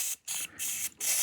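Three quick hissing bursts from an aerosol spray can of glue activator, close up, separated by short pauses.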